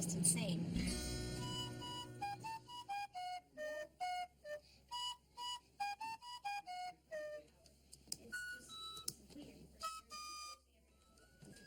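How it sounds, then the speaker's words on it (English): An Irish tin whistle plays a string of separate, clear high notes in a halting, learner's melody, with short gaps between phrases and faint background noise. "learning to play the Irish tin whistle"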